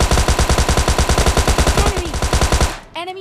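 Rapid automatic gunfire in PUBG Mobile Lite, a loud, evenly paced burst of shots lasting nearly three seconds, followed by a brief electronic game tone.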